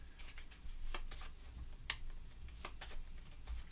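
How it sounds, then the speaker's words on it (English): Board game cards being shuffled by hand for a solo Buffy the Vampire Slayer game, giving a soft riffling and flicking rustle in several quick bursts, close up and fairly quiet, with no talking. "We'll do a little shuffle here."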